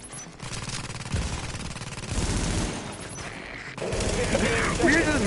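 Rapid bursts of automatic gunfire from the video game The Division, loud and sustained, with a brief lull before another intense volley; excited voices can be heard beneath the shooting.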